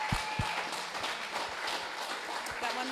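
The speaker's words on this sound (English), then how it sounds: "Give them a round of applause, please." Crowd applause at a fiesta charity auction after a bid, a dense wash of clapping with some thumps and background murmur, fairly loud and continuous throughout.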